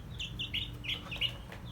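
Young Rhode Island Red chicks give a run of short, high cheeping calls and soft clucks, several bursts in quick succession over a low steady background hum, fairly close and moderately quiet.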